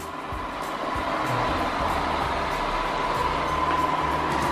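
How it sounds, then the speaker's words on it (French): A robot vacuum and mop cleaner runs with a continuous motor hum and faint whirring brush noise, steady and close throughout, with no one talking. "l'avantage de cet aspirateur c'est qu'il aspire et il lave"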